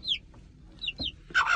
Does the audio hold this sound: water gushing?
no